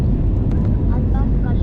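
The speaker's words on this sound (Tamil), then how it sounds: "இப்போ எங்க ஃப்ளைட் லேண்ட் ஆக போகுது." Steady, loud low-pitched roar of an Air Arabia airliner descending to land near Lake Victoria, heard from inside the cabin as a continuous rumble with some faint breathy noise on top.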